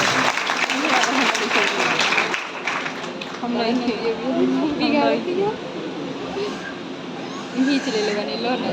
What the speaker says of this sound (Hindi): जोरदार ताली से स्वागत है सर।